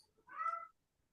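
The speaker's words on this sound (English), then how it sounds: "Oh no, my cat's starting to make noise." A house cat gives a single short meow, faint and close, in an otherwise quiet room.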